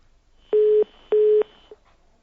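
Telephone line tones sound after a caller's call drops on a phone-in broadcast, two loud, steady beeps of equal length with a short gap between them, then a brief click-like blip, with no talk.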